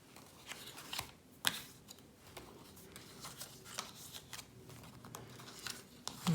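Fold lines being scored on cardboard for a diamond-shaped box: faint, quiet scraping strokes with a few sharp clicks and taps, spaced irregularly over several seconds.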